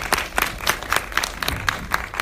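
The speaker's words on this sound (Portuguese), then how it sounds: "O grupo está aqui aplaudindo." A small group at a plenary discussion session applauds, with a handful of hands clapping in a slow, fairly regular rhythm, close and clear with distinct individual claps.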